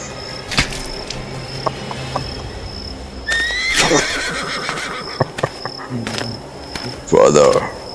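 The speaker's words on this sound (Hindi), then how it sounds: "मेरे शाही घोड़े तुम्हारा ही इंतजार कर रहे हैं" Royal horses neighing loudly in a couple of whinnies, with hoof clops and crickets chirping in the background.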